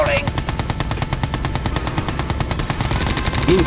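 A unit's guns firing in the video game Red Alert 2: Yuri's Revenge, a sustained rapid burst of machine-gun fire with brief synth blips at the start and end.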